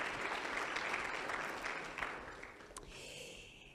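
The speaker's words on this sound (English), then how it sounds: "Please can we just have a round of applause for the sponsors." A conference audience at a fintech summit gives a round of applause for the sponsors, dense clapping from a crowd that swells and then fades away after a few seconds.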